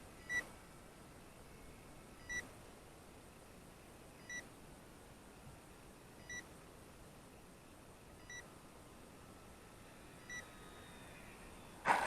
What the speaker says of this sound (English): My alarm is going crazy.